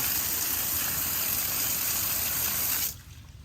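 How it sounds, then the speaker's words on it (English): Wheel cleaner is sprayed onto a black car wheel with a broad, hissing spray that runs steadily for about three seconds, then cuts off abruptly, leaving quiet. "We'll give another spray this way."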